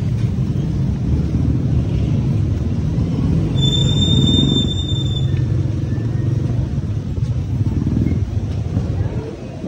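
Road traffic rumble in the Philippines, a continuous loud low drone of passing cars and motorcycles with a brief high tonal whine midway, heard steadily from close by.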